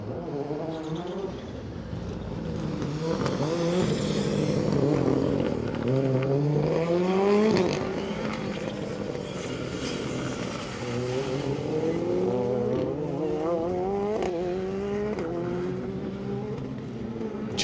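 A Skoda Fabia rally car, car number 2, accelerates hard on a rally stage, its engine revving loudly through rising gear sweeps with sharp shifts, close and sustained throughout.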